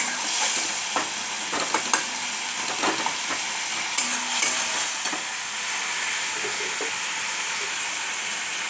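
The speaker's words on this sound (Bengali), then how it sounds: "অল্প একটু জল দিয়ে দিয়েছি, নিয়ে ভালো করে মশলাটাকে কষাবো" Masala with a little added water being sautéed for vegetarian aloo dum, a steady close sizzle with intermittent spoon-stirring scrapes and clacks throughout.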